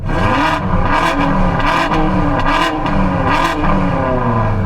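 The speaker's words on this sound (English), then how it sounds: "can you guys now rev up both your cars together" Loud, throaty engines of two tuned BMWs, an M5 and an M4, rev repeatedly in bursts, rising and falling together at close range, with a steady rumbling idle underneath.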